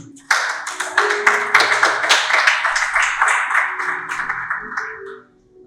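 Audience at a school broadcast special event breaks into applause, a burst of distinct hand claps starting sharply, sustained and fairly close, then tapering and stopping near the end.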